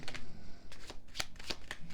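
Tarot cards are shuffled by hand in a few quick, close riffling bursts and soft slaps, quiet and without talk.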